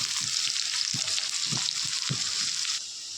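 Loud steady sizzle of onions, garlic and green chilli frying, punctuated by four evenly spaced scraping strokes of a spatula, the hiss dropping in level near the end.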